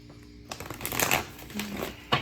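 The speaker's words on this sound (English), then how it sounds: "I will be shuffling on camera because I kind of want this to be an active energy" Tarot cards being shuffled by hand close up, a busy papery riffling and slapping that swells and eases over a couple of seconds, ending with a sharper tap.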